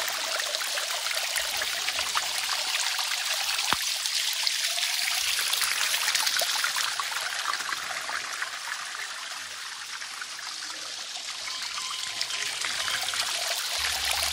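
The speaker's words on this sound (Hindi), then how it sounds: "यहाँ पे आपको एक पानी की आवाज़ सुनाई देगी, बहुत ही प्यारी और बहुत ही नेचुरल वॉइस है ये" Steady flowing water from a mountain spring trickles and splashes continuously, close and fairly loud, with no voices.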